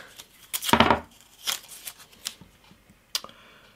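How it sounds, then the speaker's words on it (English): Masking tape being pulled and pressed onto guitar wood during a build, heard as a loud tearing rip followed by several shorter crackling strips and taps, close up with no talking. "So masking tape on first."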